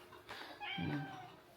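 An indoor house cat gives a couple of short, rising meows, the second fuller and longer, fairly close and quiet against a hushed room.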